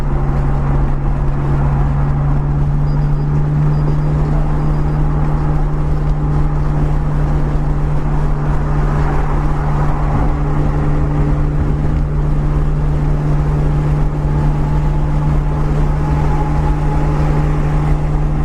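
An R32 Skyline GTR cruising on the highway, a steady low engine drone and road rumble filling the cabin continuously, loud and even with no talk.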